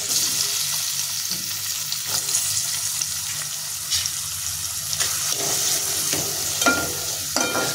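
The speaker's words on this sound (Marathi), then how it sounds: "इथे तेल तूप गरम झालेलं आहे, आपण त्याच्यामध्ये कांदा टाकून परतून घेऊया" Onions dropped into hot oil and ghee in a pan for dhaba-style mushroom masala, sizzling steadily up close with a few stirring scrapes and clatters, no voices.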